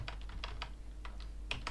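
Quick, light keystrokes tap on a computer keyboard while a meeting title is entered into Google Calendar, irregular soft clicks close by over a low hum.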